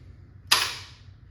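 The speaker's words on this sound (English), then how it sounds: "I want to see if it's going to do full auto." A Valken M17 less-lethal marker fires a single sharp, close crack that fades quickly into quiet, heard alone rather than as a sustained automatic burst.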